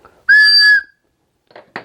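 Homemade whistle blown once in a short, loud, pure tone, followed by a couple of brief breathy puffs, close up with no talking.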